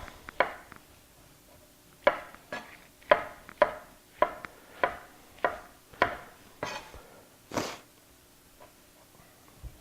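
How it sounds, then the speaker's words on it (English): Trimming and chopping oyster mushrooms in a kitchen: about a dozen sharp, close knife strikes hit the cutting board in an uneven rhythm, some in quick pairs, with quiet gaps between and no talking. "we want to remove the bottom knot here, where they all kind of group together, and then you just mow them down"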